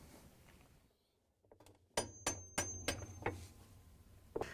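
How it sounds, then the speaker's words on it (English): A hammer taps a wrench to seat the hub nut on a GE washer tub, with a quick burst of about five sharp metallic clinks followed by a few more spaced taps in a quiet room. "we can take the wrench and a hammer and tap it down"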